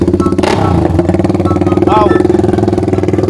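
A Honda Sonic 125 motorcycle with a 68 mm bore and a full titanium open exhaust runs loud and close, its engine pulsing rapidly with sharp revs rising over the idle, while a voice exclaims briefly.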